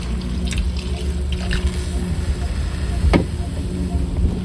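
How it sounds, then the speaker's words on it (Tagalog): Water runs from a tap into a cooking pot during Filipino home cooking, a soft, steady splashing stream with a few faint clinks, heard close and moderately quiet. "lagyan ko lang din ng konting tubig"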